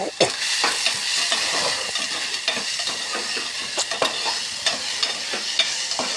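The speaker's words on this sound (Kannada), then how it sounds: "ಒಂದು ಬೈಲಲ್ಲಿ ಎಣ್ಣೆನ ಹಾಕಿರ್ತೀವಿ, ಜೀರಿಗೆ, ಅದರಲ್ಲಿ ಹೆಚ್ಚಿರ್ತಕ್ಕಂಥ ಈರುಳ್ಳಿನ ಅದರೊಳಗೆ ಹಾಕಬೇಕು" Chopped onions and cumin seeds frying in hot oil in a pan, a steady close sizzle broken by repeated scraping stirs, with no voices.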